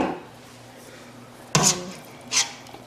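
Shredded chicken dumped from a container back into a pot on the stove: a quiet room, then a close soft thud and splat, followed a moment later by a second smaller plop.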